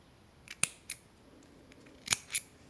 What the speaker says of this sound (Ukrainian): Потім я беру ножиці і розрізаю, і ніточку відрізаю.